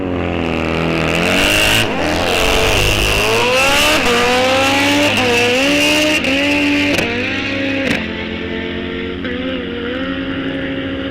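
Harley drag racing motorcycles launch down the strip at Rock Falls Raceway, loud roaring engines whose pitch climbs in repeated rising sweeps through the gear changes, then fades slightly as the bikes pull away.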